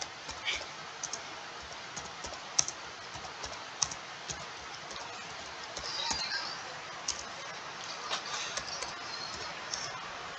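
Fingers type on a laptop keyboard in an uneven run of light clicks and occasional sharper key taps, steady and close over a faint background hiss.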